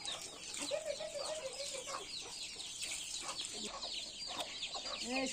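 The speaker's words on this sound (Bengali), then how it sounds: "দেশি মুরগির খামার আমার।" Desi hens on a poultry farm cluck and chatter at moderate distance, with a few drawn-out calls and repeated short clucks from several birds, over a quiet outdoor background.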